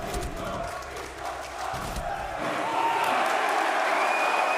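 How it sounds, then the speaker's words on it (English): An esports crowd at the Manchester Major semifinal between beastcoast and Team Liquid chants and roars in a large arena, a broad sustained wash of many voices that swells louder near the end as a commentator talks over it. "they're saying Beast Coast sucks, but the crowd is staying in it"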